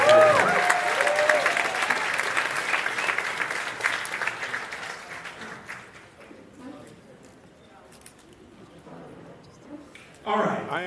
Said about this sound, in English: just give the guys here the biggest cheer